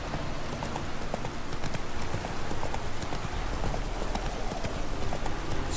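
Steady clip-clop of horse hooves at a quick pace in The Witcher 3 game on PC, loud and continuous throughout over a dense background of in-game ambience, with no speech.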